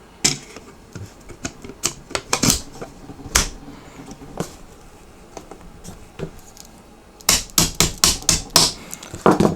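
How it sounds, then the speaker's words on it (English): A DesertTech MDRx rifle's front handguard slides on with a run of sharp plastic-and-metal clicks and taps, close and loud, ending in a dense cluster of snaps. "Slide the front handguard on."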